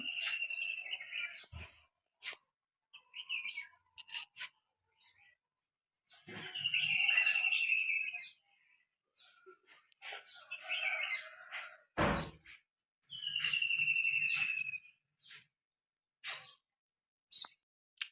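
Birds chirp and tweet in the natural surroundings, repeated bright bursts of calls with rising and falling whistles, some longer trilling phrases, fairly close and clear, with no voices.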